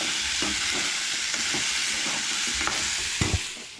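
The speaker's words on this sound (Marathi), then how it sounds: "सो हे पळया हांगसर कांदो बरो भाजून घेया" Onions fry in a pan for Goan-style chicken, a loud, steady hiss of sizzling oil with a few light stirring scrapes and taps throughout.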